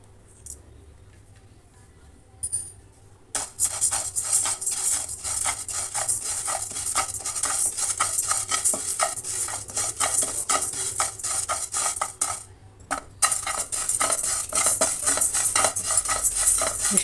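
Rice roasts in a pan, a dense dry rattle and scrape of grains under constant stirring, close and steady apart from two brief pauses.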